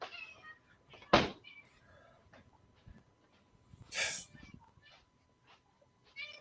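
Two or three pet cats call out for their dinner, a sharp loud meow near the start and a longer wavering one midway, separated by quiet room noise and faint breathing.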